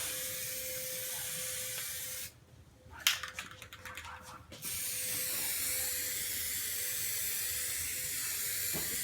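Short bursts of aerosol spray paint hissing onto the black plastic trim of a Silverado truck, a couple of seconds of close spraying between steady background noise, with no talk.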